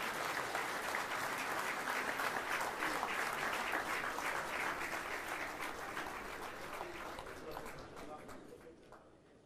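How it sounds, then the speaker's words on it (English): An audience at an India-Israel business summit in New Delhi applauds as the two prime ministers leave the hall, a loud sustained clapping that slowly fades, with voices mixed in. "As both the Prime Ministers leave the hall, let's bid them adieu with a huge round of applause"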